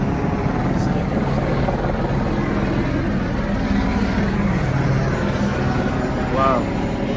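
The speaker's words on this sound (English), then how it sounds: "You can hear the choppers happening" Helicopters' steady thumping rotor drone fills the scene continuously over downtown Los Angeles during riots, loud and close, with a faint voice in the background.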